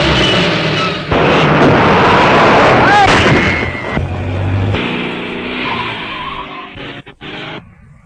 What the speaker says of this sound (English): No, there's a car following us.